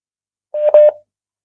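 A short burst of telephone keypad dialing tones, a few quick beeps in a row as a phone call is placed, clear and alone against silence.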